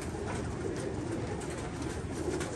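Pigeons coo softly in a steady, low murmur, with several birds calling over one another continuously and no voices present.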